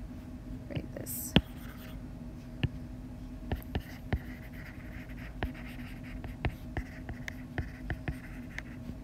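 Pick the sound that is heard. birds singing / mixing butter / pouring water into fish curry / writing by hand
writing by hand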